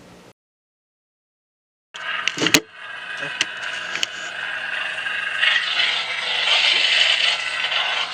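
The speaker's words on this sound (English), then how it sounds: "and we'll turn it on to high volume here." A TCG Customs LEGO-style lightsaber plays at high volume, opening with a brief hum, then silence, a sharp click and a clattering ignition burst, settling into a steady, loud, buzzing hiss that swells slightly toward the end.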